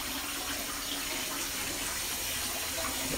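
A steady, soft rush of running water while a cooking pot, a nabe, is washed. The flow is even and continuous, with no talking.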